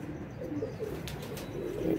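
Pigeons coo softly in a low, rolling murmur. The calls repeat through the short stretch with faint background noise and no talking.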